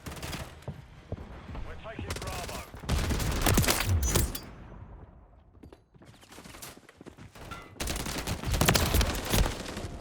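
Bursts of gunfire in the game Call of Duty: Modern Warfare III, loud rapid volleys in clusters with short pauses between, with faint voices underneath.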